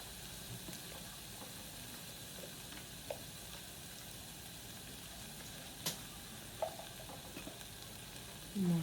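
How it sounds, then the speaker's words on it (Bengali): Bottle gourd curry with coconut and nut pastes and spices being sautéed and stirred, a faint, steady low sizzle with a few light utensil scrapes and taps against the pan. "এখন এগুলা একটু ভালো করে নেড়ে চেড়ে কষিয়ে নিচ্ছি"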